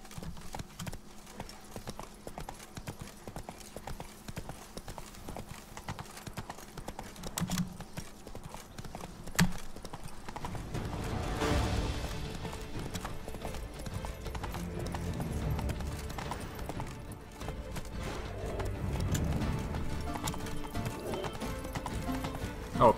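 Roach, a horse in the Witcher 3 video game, gallops with steady rapid hoofbeats that grow louder and denser in the second half, with a brief whinny and no talking.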